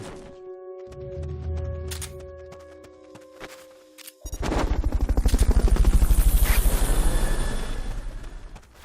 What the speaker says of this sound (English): Fulton recovery subject confirmed onboard helicopter.